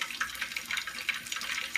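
Water poured into a bowl as the base for a Mongolian beef sauce, a steady, faint hissing trickle running without pause and without any talk over it.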